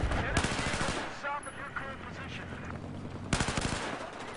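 Automatic rifle fire in the Battlefield 4 shooter game: rapid bursts of close, loud shots at the start and again near the end, with a quieter stretch of game sounds between.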